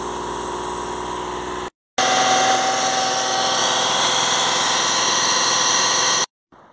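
A Land Rover Discovery 5 3.0 TDV6 diesel engine with its intake disconnected holds steady revs near 2,500 rpm, a loud whirring, whining drone heard close up, briefly cut off by short gaps.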